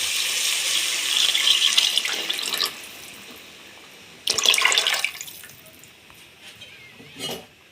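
Tamarind water is poured into a cooking pot for a village-style fish curry in two splashing bursts, the second louder and closer, followed by quieter trickles and a final short splash.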